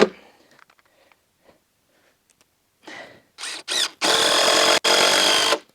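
An impact driver buzzes in a few short bursts, then runs in two longer, loud, high-pitched stretches, close by, after quiet faint rustling, fastening a Simpson Strong-Tie connector on a pressure-treated pergola.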